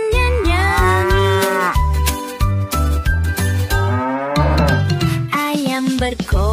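A cartoon cow moos repeatedly in a cheerful Indonesian children's song, the long, sliding, wavering calls loud and up front over a bouncy, steady musical accompaniment.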